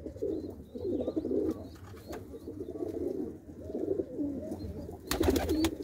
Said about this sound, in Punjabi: ਅਤੇ ਇਹ ਆਪਣੇ ਹੈਗੇ ਆ ਜੀ ਵੱਡੇ ਕਬੂਤਰ